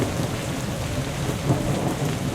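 Steady rain and rumbling thunder in the video game Survive The Nights, a dense continuous downpour with low booming thunder underneath, no voices.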